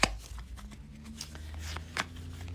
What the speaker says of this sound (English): So I'm just going to shuffle some more.